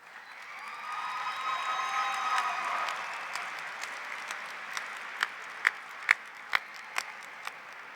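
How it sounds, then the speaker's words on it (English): Graduates at a Turner Ashby High School commencement applaud their parents and loved ones: steady, dense crowd applause with some cheering tones early, thinning out into scattered, louder individual claps toward the end. "Graduates, please take a moment to express your appreciation for these people through your applause."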